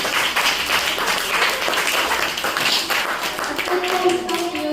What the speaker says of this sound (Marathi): सगळ्यांसाठी टाळ्या होऊन जाऊया